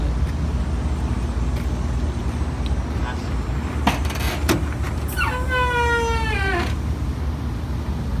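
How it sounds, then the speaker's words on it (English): Loose gas tank protector on a Ford F350 pickup squeaking, a run of rising and falling squeals with a few sharp clicks over steady background noise. "There is a loud squeaking noise and stuff coming from the truck that was not there before."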